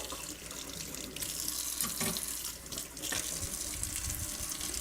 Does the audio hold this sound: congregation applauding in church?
no